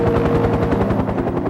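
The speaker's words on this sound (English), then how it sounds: "Harper could hear a rescue helicopter in the distance" A wartime rescue helicopter's rotor pounds with a steady, loud, rapid thumping throb that fills the whole moment, with no voices.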